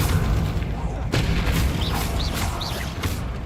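A Confringo fire spell from Hogwarts Legacy explodes in a dense, rumbling blast that sustains under layered game noise and effects, with a player voice partly mixed underneath.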